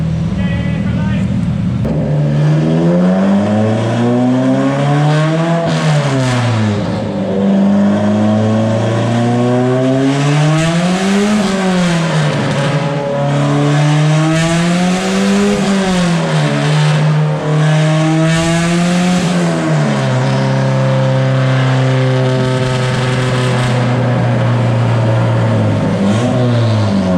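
A Nissan 240SX with a KA engine revs hard on a dyno, several long loud pulls climbing and falling in pitch with gear changes, the engine roaring up close and drowning out any voices.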